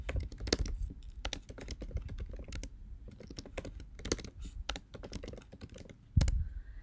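An email address is typed on a computer keyboard: a steady run of close, crisp key clicks with brief pauses, heard alone in a quiet room.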